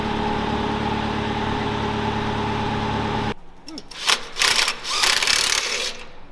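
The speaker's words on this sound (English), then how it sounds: "get these motor mount bolts out" Ratchet wrench working loose motor mount bolts on a Jeep, a brief run of quick mechanical clicks and metallic rattles after a steady engine-like hum cuts off, close by with no talk.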